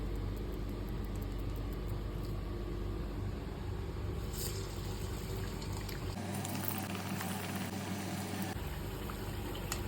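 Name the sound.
lentil vadas frying in hot oil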